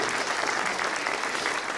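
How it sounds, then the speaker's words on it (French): A crowd at a New Year's greetings ceremony in France applauds steadily, a dense wash of clapping hands at moderate volume with no voices standing out. "On peut les applaudir"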